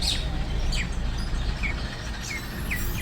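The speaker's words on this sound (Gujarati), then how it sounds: "તમે અહીંયા જોઈ શકો કેવા મસ્ત પક્ષી કિલોર કરી રહ્યા છે. આ કોયલ તમે જોઈ શકો." Birds including an Asian koel chirp outdoors near a temple in Rajkot, scattered short high calls over a steady hiss of ambient noise, moderately faint with no talk.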